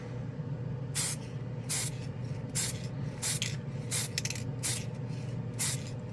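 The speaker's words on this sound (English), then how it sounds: "Normally, you should go a light coat, let it sit for 1 minute, and then hit it with the second coat with these spray cans." Revell spray paint can spraying onto a plastic spoon, about a dozen short hissing bursts in an uneven rhythm, close and clear over a low steady background hum.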